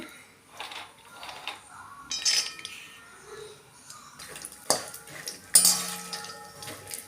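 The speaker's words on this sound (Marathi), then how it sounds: "तर हे बदाम आपल्याला छान असे भाजून घ्यायचे तुपामध्ये" Almonds roasting in ghee in a pan while being stirred, with light scraping and clinking of the spoon against metal, intermittent and close over a soft sizzle.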